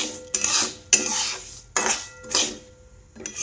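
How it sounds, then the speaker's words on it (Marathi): Mustard seeds roasting in a small amount of oil in a pan, heard as repeated scraping strokes of a spatula against metal, about five rhythmic bursts with short gaps, close and moderately loud, no talking. "एवढ्या कमी तेलातच आता मोहरी भाजली जाते"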